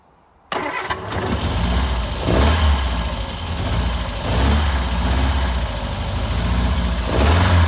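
A Triumph Spitfire Mk2's engine fires up abruptly and settles into a steady, rumbling idle with slight rises in revs, loud and close with no talking.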